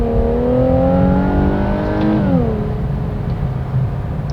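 A 300-horsepower twin-turbo V6 in a 2017 Infiniti Q60 pulls away hard from a standstill, a loud engine drone rising in pitch, easing briefly at a gear change, then carrying on steadily, heard from inside the car.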